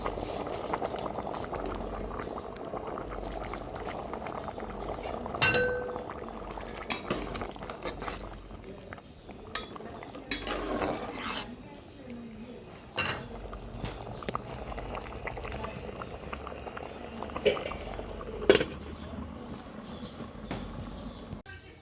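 Khichuri simmering in a pot over a low gas flame, a steady soft bubbling with occasional light clinks of a utensil against the pot, no talking.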